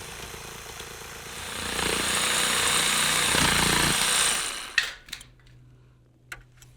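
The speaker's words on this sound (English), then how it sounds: "I bore a 1/2-inch hole on the edge of the circle, insert the blade of a jigsaw, and make the cutout." A jigsaw cuts out a 6-inch circle, started from a 1/2-inch bored hole at its edge, giving about three seconds of loud, steady buzzing cut that stops abruptly, followed by a few sharp knocks and clatters.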